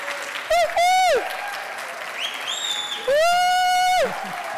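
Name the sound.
audience applause and cheering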